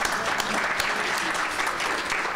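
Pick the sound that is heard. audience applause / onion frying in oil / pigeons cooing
audience applause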